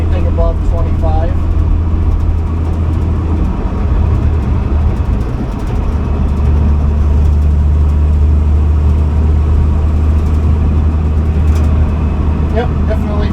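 A gasoline-engine vehicle in third gear at low speed, its engine droning with a steady low rumble and road noise, while someone talks over it.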